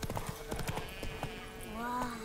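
Quick rhythmic horse hoof clip-clops in The Witcher 3: Wild Hunt Next Gen trot along up close, followed by a short horse whinny, with faint talk in the background.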